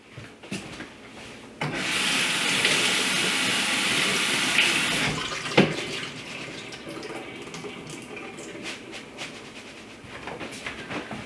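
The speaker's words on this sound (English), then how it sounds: "So now it just needs to be washed and spun dry." Tap water running steadily while kale is washed, a continuous rushing stream for a few seconds, then quieter rubbing and handling of wet leaves close by, with no talking.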